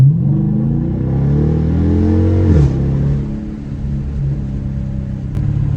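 A performance car engine revs loudly with rising pitch, drops sharply on the second-to-third gear shift, then keeps pulling at a steady drone.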